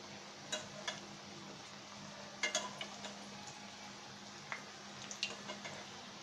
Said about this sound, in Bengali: আমরা মাঝখানে আমাদের যেটা সাইডে ছিল আমরা এটাকে একটু ভেজে নিচ্ছি।